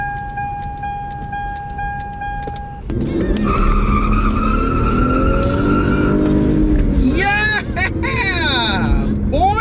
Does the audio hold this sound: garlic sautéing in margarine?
no